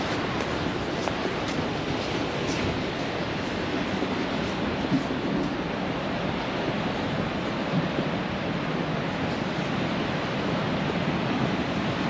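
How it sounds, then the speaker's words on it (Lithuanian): Water pouring over the Bauska dam, a steady, dense broadband rush heard from nearby, continuous and unchanging with no talk. "Bauskų užtvanka. Kur bėga vanduo."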